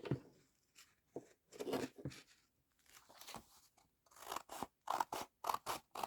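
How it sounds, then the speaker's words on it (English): Scissors snip through the paper edge of a junk journal page, a series of close, crisp cuts that speed up into quick rhythmic snips toward the end. "Because what I need to do is cut this edge."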